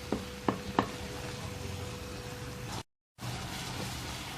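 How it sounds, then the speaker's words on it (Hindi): A spoon stirring strawberry jam cooking in a pot, with a few soft scrapes and taps early on over a quiet bubbling simmer, briefly cutting out near the end. "बस चम्मच आपने इसमें थोड़ी थोड़ी देर के बाद चलाते रहना है।"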